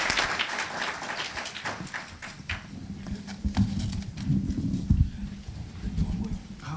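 Round of applause from a farmers conference audience after a USDA presentation, a steady crowd patter of clapping that swells and fades, with some murmuring underneath.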